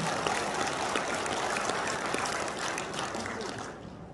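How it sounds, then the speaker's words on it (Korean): Enthusiastic applause from a crowd at a clan association's general meeting fills the whole stretch, dense and steady clapping that tapers slightly at the end. "감사하다는 박수 한번 힘차게 보내주시기 바랍니다"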